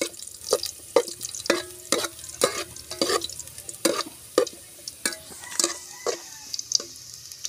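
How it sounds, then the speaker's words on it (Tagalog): Garlic and onion sizzle in a pan while a utensil scrapes and stirs in a regular rhythm, close and fairly loud. "Gisahin na natin ang maigi."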